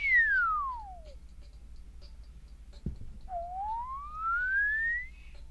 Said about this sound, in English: this is what the whistling sounds like with just a little bit of gain, compression, and limiting applied to it